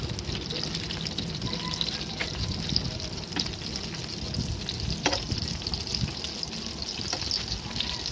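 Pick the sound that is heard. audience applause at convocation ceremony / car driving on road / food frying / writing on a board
food frying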